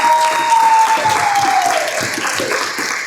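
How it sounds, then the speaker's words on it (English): A crowd applauds the walk-ins at a wedding celebration with loud, sustained clapping, while a high whistle rises over it at the start and then falls away. "Can we give a big round of applause to all the walk-ins from everybody?"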